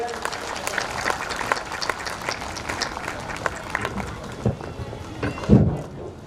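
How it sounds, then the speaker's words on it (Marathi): Applause welcoming a donor at a large devotional gathering, a crowd clapping in a sustained patter at moderate distance, with a few louder knocks near the end and a voice speaking over it. "आपण टाळ्या वाजवून त्यांचं स्वागत करूया."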